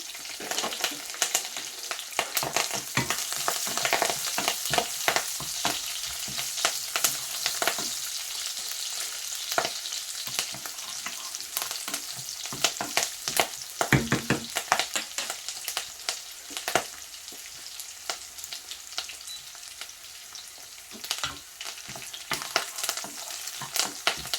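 Chopped garlic, green chili and curry leaves frying in hot sesame oil for a tin fish curry, a continuous crackling sizzle with sharp pops and stirring clatter throughout, close and fairly quiet, with no talk.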